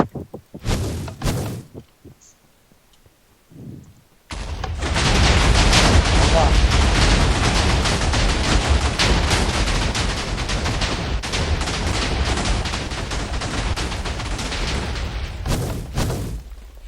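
Missiles explode in Minecraft as a few sparse bangs, then a long, loud, continuous barrage of blasts and crackling that runs to the end, with voices talking over it.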